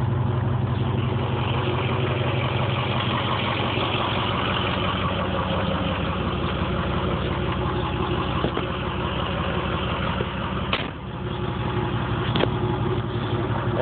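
A car with an MTW Stage 3 turbo setup idles steadily, a deep, throaty low rumble holding constant for about fourteen seconds, close and unaccompanied by speech.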